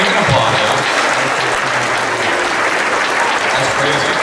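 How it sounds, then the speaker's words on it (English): Loud, sustained applause from a large audience at a Guardians of the Galaxy panel at Wizard World Chicago 2014, dense and continuous with voices mixed in. "we can applaud that"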